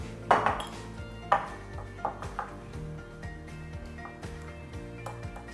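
A fork works through arepa dough in a bowl, with a few light clinks and scrapes against the dish over soft background music.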